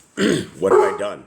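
A dog named Leo barks twice, loud and close, with a growly edge, while a voice speaks over the barking.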